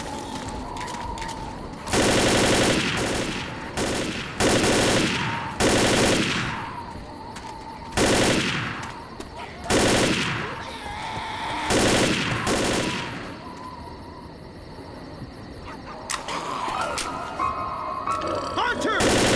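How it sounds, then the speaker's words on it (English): Loud, sustained machine-gun bursts in Left 4 Dead, several long sprays of rapid fire broken by brief pauses, with voices talking in between. "I just hold down the trigger and spray and pray"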